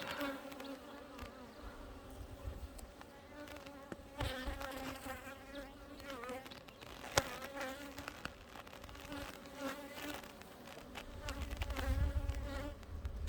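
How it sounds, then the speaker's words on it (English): Honeybees buzz steadily inside an open hive box, a dense, faint, continuous hum with individual bees droning past close by and occasional light knocks, with no speech. "there's quite a few bees in this box"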